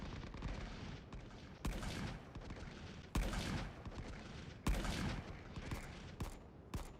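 Aircraft machine guns strafing in a First World War trench battle video game: repeated loud bursts of rapid gunfire, each a sharp crackling volley lasting about a second, with explosions and battle noise filling the gaps.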